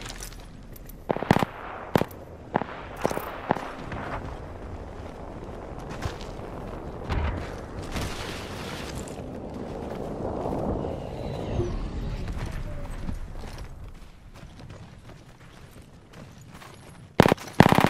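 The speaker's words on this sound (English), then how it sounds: "I'm getting shot at. Taking fire, brothers." Gunfire in the battle game Apex Legends: a run of sharp, closely spaced shots early on, then a dense noisy stretch of combat sounds, with a final loud burst of shots at the end.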